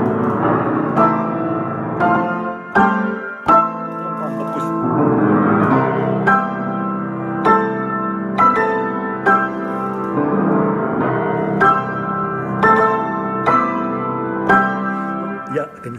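Solo piano plays a flowing passage with quick grace notes from the cadenza of Grieg's Piano Concerto, steady and fairly loud throughout, with no talking.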